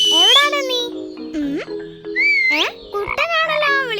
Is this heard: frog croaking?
yes